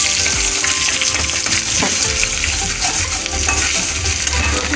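Garlic frying in oil alongside cumin and green chilies, a loud, steady crackling sizzle up close with occasional stirring clinks, no voices.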